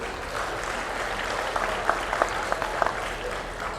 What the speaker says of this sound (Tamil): இப்போது நாம் எழுப்பப் போகும் கரகோஷம் தவிர நம்மால் வேறு என்ன செய்ய முடியும்?